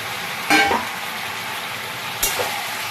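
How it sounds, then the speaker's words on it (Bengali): A fish head and prawns go into a pan with soft cooked pumpkin, giving two sudden bursts of sizzle over a steady low frying hiss, with no voices. "এই যে মাছের মাথা আর চিংড়ি মাছটা দিয়ে দিচ্ছি"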